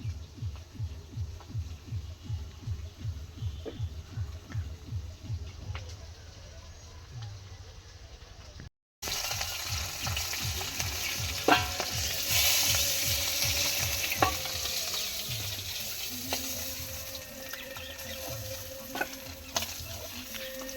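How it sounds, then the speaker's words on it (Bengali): Fish frying in oil in a home kitchen, a steady crackling sizzle with rhythmic scraping and stirring strokes through the first half, then a brighter, louder hiss with occasional pops after a brief cut. "মাছগুলো ভাজা হয়ে গেল।"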